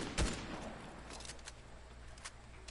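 Rifle fire in a video game: a sharp shot opens, followed by scattered fainter distant shots in quick bursts.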